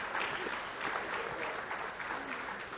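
Steady, dense applause from an audience at an Indian Coast Guard ship commissioning ceremony for ICGS Samudra Pratap, heard fairly faint and continuous throughout without a break.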